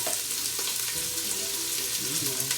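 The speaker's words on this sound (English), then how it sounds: "Cooking, frying, and taking all the fats out." Meat fries in hot fat for Filipino pancit, its fat rendering out in a loud, continuous sizzle with crackling pops and faint stirring, close and steady throughout.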